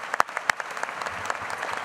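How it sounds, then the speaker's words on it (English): Audience at an evening awards ceremony for homeland security and law enforcement medals applauds the sponsors with a brief, moderate burst of clapping, sharp individual claps standing out near the start. "How about a round of applause for the sponsors and the partnership?"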